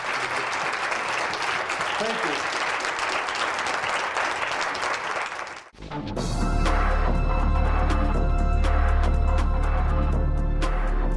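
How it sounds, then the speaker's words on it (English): Audience applause at a talk, a dense, loud wash of clapping that fills the room and then cuts off abruptly, followed by a brief spoken thank-you and music. "How about a round of applause for you?"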